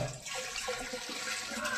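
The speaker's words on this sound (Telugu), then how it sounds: "పైప్ వేసింది కదా మొన్న వస్తుంది. ఫుల్గా పడుతున్న వాటర్" Water from a pipe fed by a well pours steadily in a continuous, fairly faint gush with no talking.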